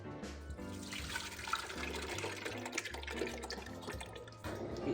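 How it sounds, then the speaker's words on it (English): Tomatoes splash into a larger pot while a lasagna sauce is being made, giving a continuous wet sloshing and dripping over a steady, tonal background hum. "Be careful with that splashing. I'm getting tomatoes everywhere."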